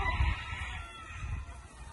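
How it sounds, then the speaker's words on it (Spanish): A rooster crows once at moderate distance, its call drawn out over a faint outdoor background. "Es que son tantos gallos."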